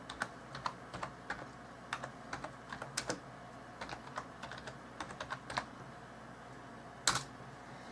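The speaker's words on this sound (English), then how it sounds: "And we'll type in 2 more random words." Keys clack on a computer keyboard in irregular bursts of quick, moderately loud taps, ending with a sharper cluster of strokes; no one speaks.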